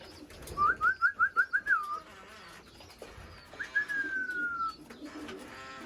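Racing pigeons coo nearby in a quiet setting: a rhythmic burst of about six pulsing coos, a pause, then a longer drawn-out coo followed by softer calls.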